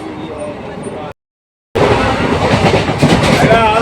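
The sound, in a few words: Hazarduari Express train running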